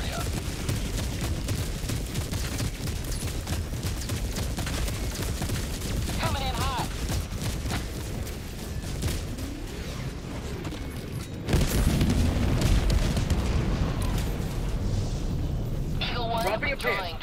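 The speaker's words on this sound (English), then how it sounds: "Orbital barrage. Clear the area." Orbital barrage explosions in the Helldivers 2 video game, a dense, continuous rumble of booms and blasts that grows louder partway through, with voices speaking over it.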